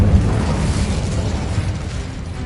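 Fire and blast spells going off in the Hogwarts Legacy video game, a dense, continuous rumbling burst of explosive noise lasting a couple of seconds with no talk.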